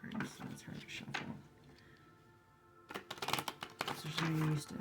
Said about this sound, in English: This is a very thin deck. There's not very many cards, so it's hard to shuffle.